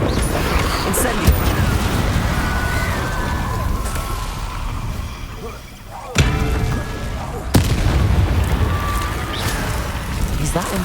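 Spell blasts and explosive booms from the Hogwarts Legacy video game burst out loudly amid constant combat noise, with two heavy impacts standing out in the middle of the fight.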